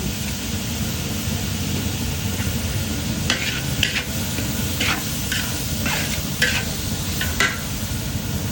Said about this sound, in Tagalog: Ito na yung pagigisa ng ating pork or yako.